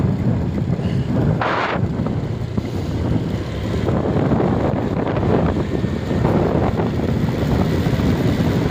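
Steady wind rushing across the microphone on a mountain ride in Piddig, Ilocos Norte, a broad constant roar with low buffeting gusts throughout, no voices.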